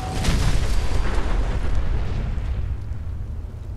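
A Fat Man nuclear launcher shot exploding in Fallout 4: a loud, sustained boom with a rumbling low-end roar that slowly decays over a few seconds, heard alone without talk.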